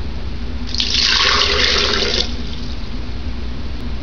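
Three cups of water poured for hemp milk give a short, loud rush of liquid splashing into a container for about a second and a half, close to the microphone, over a low steady background hum.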